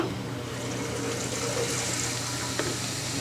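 A toilet tank fills with water at full blast in a steady, loud, rushing hiss that continues without a break. There is no talk over it.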